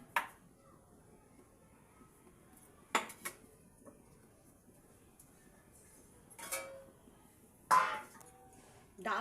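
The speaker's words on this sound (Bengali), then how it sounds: "গ্যাস জেলে কড়াটা বসিয়ে দিলাম।" A metal wok set down on a lit gas stove, with a few sharp clanks and knocks of metal on the burner spaced several seconds apart over a quiet low hiss.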